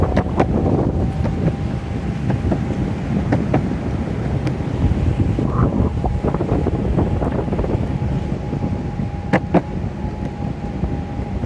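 A breeze buffets the microphone outdoors during a ride, producing loud, continuous low rumbling wind noise with a few scattered clicks and knocks and no speech.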